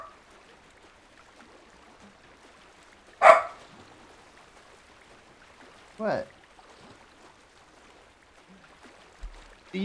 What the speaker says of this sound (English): What are you barking at, homie?